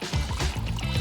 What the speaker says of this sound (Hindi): पानी से एक बोल भरे